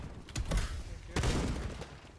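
Two quick bursts of gunfire in a first-person shooter, fairly faint and muffled, standing out from a quiet background.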